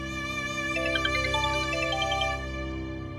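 An electronic ringtone plays steadily, a repeating melodic chime pattern that continues for a few seconds before cutting off, heard alone.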